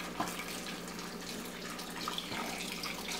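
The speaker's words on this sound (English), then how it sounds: "And now I got some hot water. So I'm going to add it to the soup." Hot water poured into a pot of homemade Ghanaian palm nut soup, a steady splashing, trickling pour heard up close and continuing throughout with no talking.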